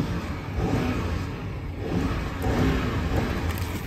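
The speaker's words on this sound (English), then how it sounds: "put in sport plus, give you a few revs." Revving of a 2016 BMW 550i V8 with sport plus mode engaged, several rising and falling throttle blips with a deep, steady engine rumble close to the microphone, no talking.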